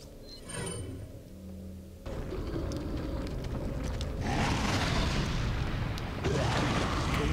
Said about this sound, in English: I still have an incendiary grenade.